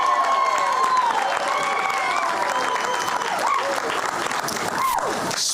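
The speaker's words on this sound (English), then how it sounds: "Give yourself a round of applause." A crowd at a championship parade celebration for a women's basketball team applauds and cheers in a broad, continuous wash, with voices calling out over the clapping throughout.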